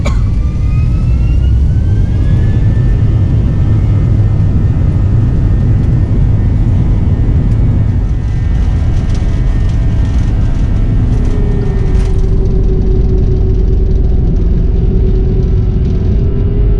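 Vietnam Airlines airliner taking off, heard from inside the economy cabin as a loud, steady roar and deep rumble of engines and airflow that stays constant throughout, with no voices.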